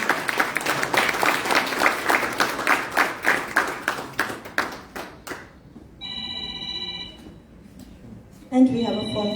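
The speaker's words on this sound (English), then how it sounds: "One more round of tremendous thundering applause for 1 whole minute." Audience at a Telugu Raam Bhajana awards function in South Africa claps in a burst of applause that fades out, followed by a phone ringing repeatedly in the hall.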